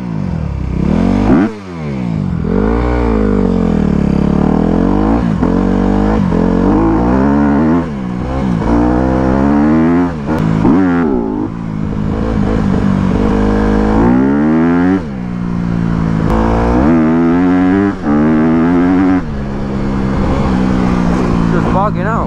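A Honda CRF250R dirt bike on a trail, running poorly and bogging out: a loud, close engine that revs up and down repeatedly, with sudden dips and stumbles in its pitch between surges.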